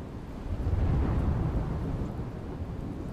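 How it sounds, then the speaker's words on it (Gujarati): Heavy unseasonal winter downpour with thunder across rural Gujarat, a dense steady roar of rain carrying a low rumbling swell that peaks near the start and holds loud and continuous throughout. "રાજકોટના વિંછિયા તેમજ આજુબાજુના વિસ્તારોમાં ધોધમાર વરસાદ"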